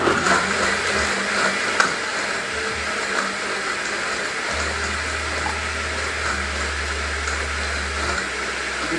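A loud, steady whirring roar of a blender chopping dried pineapple, with a low grinding hum kicking in partway through as the blades churn.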